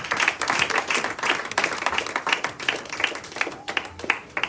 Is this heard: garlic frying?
no